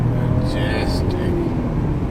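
An Audi A7 Quattro is thrown hard into a corner, its engine a steady, close, heavy low rumble that fills the whole short stretch without a break.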